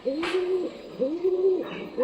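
Pet pigeon cooing near a cage, two close, clear rising coos repeated about a second apart, with a brief rustle between them.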